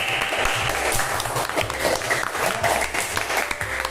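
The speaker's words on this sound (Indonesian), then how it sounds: "beri tepuk tangan untuk kelompok A" A class of students gives group A a round of applause, a steady patter of many hands clapping for several seconds at moderate loudness.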